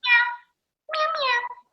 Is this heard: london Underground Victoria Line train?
no